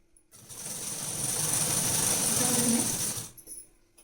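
A sewing machine runs in one steady, continuous burst while stitching a folded blouse strip, starting and stopping cleanly with no talk over it.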